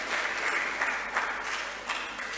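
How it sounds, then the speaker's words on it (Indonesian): Congregation at a Sunday church service claps for the children; brief, steady crowd applause throughout, fairly close and even in loudness, with no voices over it. "Tepuk tangan dulu buat anak-anak."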